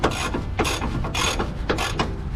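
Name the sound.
ratchet loosening sway bar bushing bolt on Dodge Dakota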